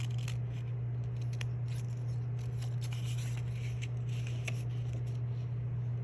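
Scissors snip the outer edge off a mosaic piece, soft close cuts and paper-like rustles over a steady low electrical hum, no talking.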